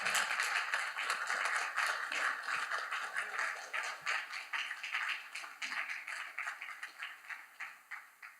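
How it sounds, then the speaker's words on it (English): Sustained applause and clapping from an audience at a men's empowerment summit, dense and steady at first, then thinning into looser, separate claps as it fades toward the end. "Let's give them a round of applause, everyone."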